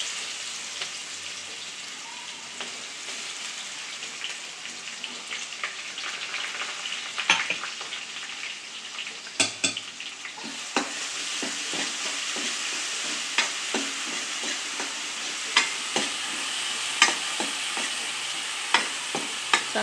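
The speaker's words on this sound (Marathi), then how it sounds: "लसूण, कढीपत्ता, जिरं, मोहरी चांगलं कडकडली का मग चांगली फोडणी बसते" Crushed garlic and green chili, curry leaves, cumin and mustard seeds sizzling in hot oil for a tempering for white buttermilk kadhi: a steady close frying hiss with scattered sharp crackles and pops throughout.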